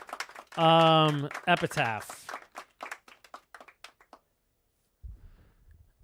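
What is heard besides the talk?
golf clap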